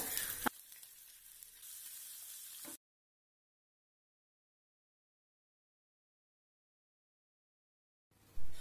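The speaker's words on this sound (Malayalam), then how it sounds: "അപ്പൊ ഓയിൽ ഇത് ചൂടായി വന്നിട്ടുണ്ട്. ഇതിലേക്ക് ഓരോ മീനായിട്ട് ഇട്ട് കൊടുക്കുകയാണ്." Fish sizzling loudly in hot oil for a couple of seconds, a dense close crackle that cuts to silence, then a brief burst of sizzle returns at the end.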